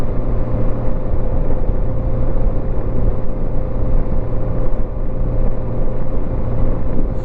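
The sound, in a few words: 1987 Honda GL1200 Goldwing motorcycle cruising on road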